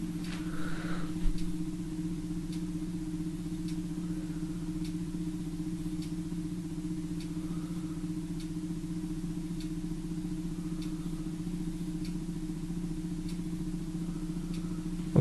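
A small battery-powered motor spins a wheel continuously, giving a steady low electric hum with faint, regularly spaced ticks repeating throughout.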